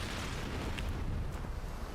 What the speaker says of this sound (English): there's some explosions going off over there